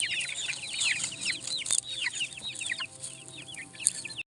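Free-range Rhode Island Red chickens in a small backyard farm cluck and chirp busily up close, a dense overlapping chatter of many birds with no talk.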